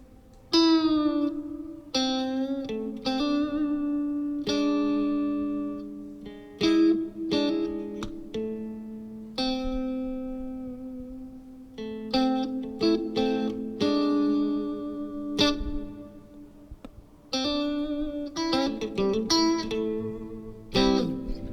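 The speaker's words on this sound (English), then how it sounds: "you can already hear the reverb really washy. It gets really, really deep." Electric guitar notes and chords ring out through a Fender Champion 50XL amp's deep, washy reverb, each strum trailing into a long shimmering tail, played alone.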